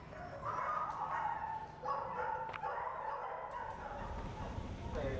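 A puppy barks in repeated short, yappy bursts that rise and fall over a few seconds, fairly close against a murmur of background noise.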